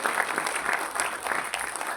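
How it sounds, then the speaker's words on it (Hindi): Dense, steady applause from an audience at the 12th Karmayogi Award 2025 ceremony fills the whole short stretch as a continuous crackle of many hands, with no voices on top. "तो एक बार उनके लिए जोर से ताली बजाइए।"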